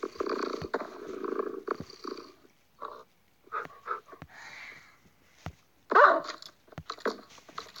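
Video game dogs in Minecraft growl, whine and make short snuffling vocal sounds in scattered bursts, close by, with brief quiet gaps between them.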